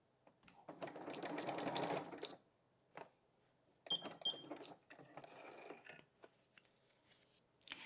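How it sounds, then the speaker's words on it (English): A sewing machine sews a tiny zigzag stitch on scrapbook fabric, running in a sustained whirring burst and then in shorter start-stop runs with clicks and pauses between them, all close and without talk. "This one has a straight stitch in the illustration, so I'm going to do a tiny little zigzag."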